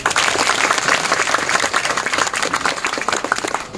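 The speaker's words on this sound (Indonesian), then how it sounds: "Tepuk tangan untuk Mas Anies." Loud, dense audience applause fills the whole stretch at a book event welcoming a guest, steady broadband clapping from a crowd with no talk over it.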